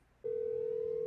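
A telephone dial tone in the GTA V roleplay video game comes on abruptly after a brief quiet and holds as one steady, clean, unbroken tone at moderate loudness.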